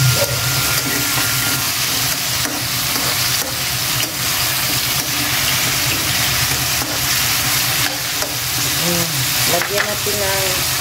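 Squash sautéing in a hot pan sizzles loudly and steadily for the whole stretch, with scraping and stirring noises rising through the hiss near the end.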